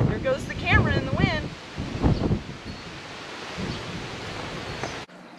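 Wind buffets a camera outdoors as a low rushing rumble that runs under a voice speaking in the first half, then cuts off abruptly near the end.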